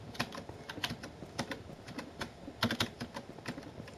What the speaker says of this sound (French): dites-moi en commentaire si ça vous dérange les bruits de clavier et tout ça.